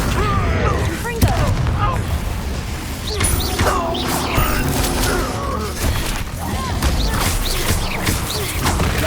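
Fiery blasting spell cast in Hogwarts Legacy, loud bursts and crackling mechanical clatter in a dense, continuous game soundscape with a voice talking over it.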